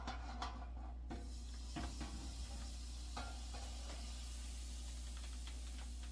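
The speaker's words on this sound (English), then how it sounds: "Yeah, y'all hear that sizzle?" Steady hissing sizzle of hot oil being poured into cornbread batter fills the clip, with a few soft clinks and stirring scrapes breaking through now and then.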